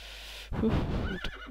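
A horse in the video game Minecraft gives a single loud, close neigh that whinnies and trails off over about a second, with no talk over it.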